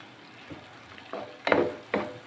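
Boondi laddu grains being stirred into sugar syrup, a few soft wet scraping and sloshing strokes that come at uneven intervals, up close and fairly quiet.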